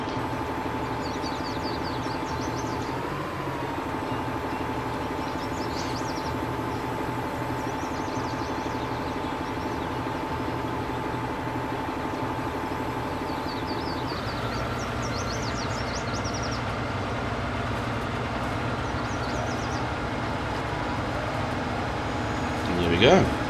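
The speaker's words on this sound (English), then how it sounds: "This really is a big tractor, way bigger than what I'm used to." A big tractor in Farming Simulator 19 drones with a steady engine hum that runs the whole time, shifting pitch once partway through. Faint clicks and clatter sit on top, and there is no talk.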